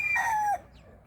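A single chicken vocalization, a short rising cluck-like call lasting about half a second, fairly close, followed by quiet.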